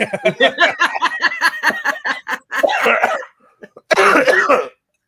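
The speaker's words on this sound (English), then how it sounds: "He's laughing so hard, he's coughing his lungs out." Repeated heavy, rapid coughs in a close burst, breaking into wheezy laughter and more hacking after a short pause.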